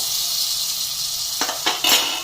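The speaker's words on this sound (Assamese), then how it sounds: "নহৰুখিনি অলপ ভাজি লম নহৰুখিনি ভাজি ললো" Chopped garlic frying in hot oil in a pan while cooking a traditional Assamese fish curry: a steady, close sizzle, joined near the end by a few short scraping stirs.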